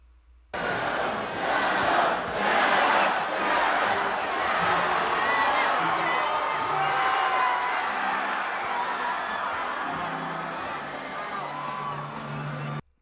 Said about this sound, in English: Despite the crowd chanting the wrong character name